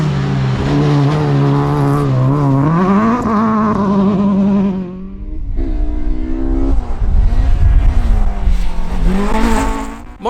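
Toyota Corolla rally car racing flat out at Aghadowey, a loud, close engine note climbing and shifting through gears, then easing before revving hard again as it passes.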